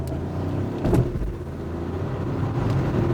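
Inside a moving 2025 BMW 1 Series hatchback, a low steady road and engine rumble fills the cabin, with a brief thump near one second and only mild wind noise; no one talks.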